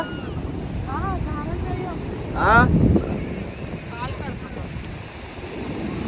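A cool sea breeze at Antarvedi beach buffets the microphone with a low, steady rumble that swells briefly midway, while a few people talk and call out nearby.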